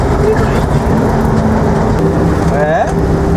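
A Suzuki Jimny's engine drones loudly and steadily from inside the cabin while it is driven, a constant rough low rumble with a brief rising whine near the end.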